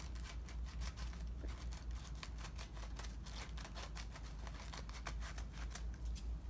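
Crafting scissors snip paper in a steady run of quick, crisp cuts, close and fairly loud over a low hum, with no voices.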